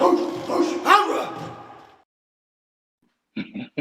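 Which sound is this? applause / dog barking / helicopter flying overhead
dog barking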